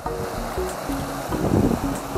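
A mountain stream in Aksay Canyon rushes past a green bank on a cold day, making a steady, close wash of flowing water with no voices.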